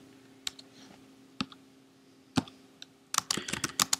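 Keystrokes on a computer keyboard entering a router configuration command: a few isolated clicks, then a quick dense burst of typing near the end, close and clear with no talk.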